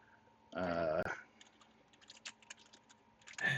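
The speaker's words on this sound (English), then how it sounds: "I was just typing in." Computer keyboard typing heard as scattered, close clicks and taps between bursts of talk, at a quiet level during an online tabletop game session.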